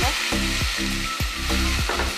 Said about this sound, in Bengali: পেঁয়াজ বাটা দিয়ে দিলাম পেঁয়াজ বাটাটা একটু লাল একটু ভাব ভাজা হবে দেখো